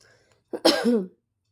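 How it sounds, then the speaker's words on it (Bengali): A single close cough with a throat-clearing quality, from someone with a lingering cold, heard alone against quiet. "এখনও কাশি হচ্ছে ঠান্ডাটা পুরো ভালো হয়নি কাশিটা এখনও আছে"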